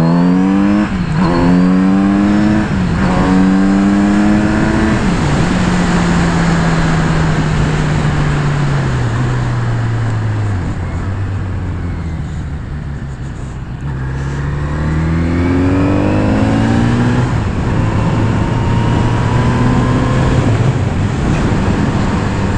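A Kawasaki Z900RS motorcycle engine on a test ride, loud and close, revving up through several gears with rising pitch sweeps, easing off midway, then accelerating hard again over constant wind rush, with no talking.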